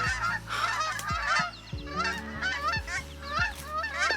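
Several Canada geese honk loudly and repeatedly, harsh overlapping calls close by, with a low rumbling hum underneath throughout.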